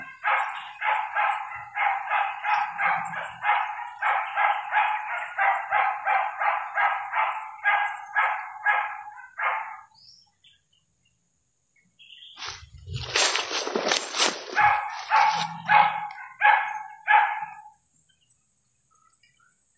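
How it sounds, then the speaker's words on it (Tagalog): Rapid bursts of barking repeat in quick runs, several dogs at a moderate distance, with a brief pause and a rustling noise midway. "Yan, pakinggan nyo. May mga aso talaga."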